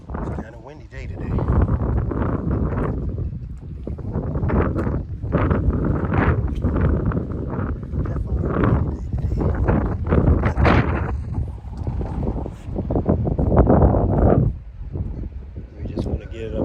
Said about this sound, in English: It's kind of windy day today.